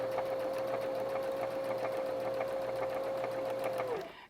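A sewing machine runs a steady, even stitch down the side of a zipper, its motor hum constant and close for about four seconds before it winds down and stops.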